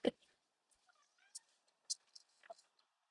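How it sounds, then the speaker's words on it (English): A few cats meow in a home craft room, with short, faint, scattered meows and chirps. "They're all just noisy today. They're very active, the cats are."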